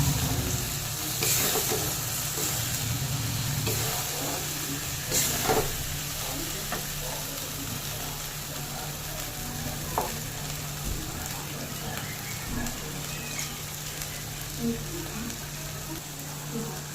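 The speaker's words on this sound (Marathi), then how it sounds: "आपले मशरूम इथं मस्त परतत आलेले आहे" Mushrooms sauté in spiced oil in a pan for a black-masala mushroom curry, giving a loud, steady sizzle throughout with occasional stirring knocks and a constant low hum underneath.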